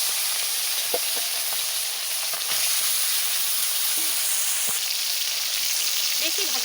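Tilapia fish frying in oil, a loud dense hiss of sizzling fat running throughout with occasional small pops and crackles.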